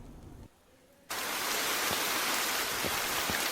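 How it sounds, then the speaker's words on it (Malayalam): In the horror video game Bathhouse, after a brief quiet gap, a dense, even hiss of heavy rain starts abruptly and continues steadily, with faint soft taps underneath. "നമുക്ക് മഴയാണല്ലേ"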